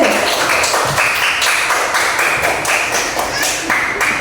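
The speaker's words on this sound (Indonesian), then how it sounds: "Beri tepuk tangan untuk kelompok C." A classroom applauds a student group, bursts of clapping from many hands for about four seconds, fairly close and lively, with no speech.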